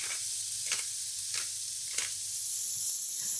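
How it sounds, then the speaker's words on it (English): Onion frying in a pan while eggplant pasta alla Norma is cooked, with a steady close sizzle and a few soft scraping stirs at regular intervals, no voices. "Add onion and stir."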